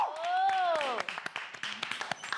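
A brief sung or drawn-out voice gives way to a run of several sharp, fairly close hand claps in a loose rhythm, from a small group in a Star Academy house.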